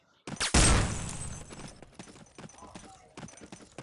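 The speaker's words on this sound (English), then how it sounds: "As grenades continue to explode." Grenades explode in a competitive video game match, one loud close blast followed by a fading rumble and a string of quicker, smaller crackling bursts, with faint background voices.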